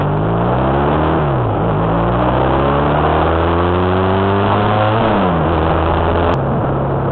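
Motorcycle engine idling in gear, running steadily and loudly up close with a low, continuous drone whose pitch dips and recovers a couple of times, and nobody speaking.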